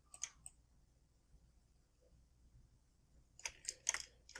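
Mouse clicks in laser scanning software for piping: a faint pair of quick clicks at the start, then a cluster of sharper clicks near the end, against near silence.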